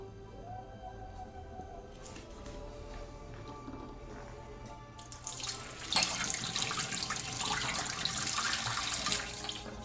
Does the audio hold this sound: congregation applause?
no